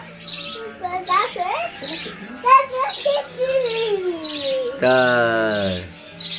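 A pet bird named Kyo-Kyo chirps and squawks while a child hand-feeds it, bright repeated tweets and begging calls close by, with a longer wavering cry near the end.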